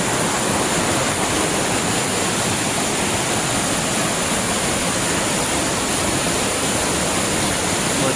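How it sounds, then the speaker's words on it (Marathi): Water plunges steadily down a waterfall, a dense unbroken roar close by that holds at a constant level throughout, with no voices. "पाणी पडतं सुंदर"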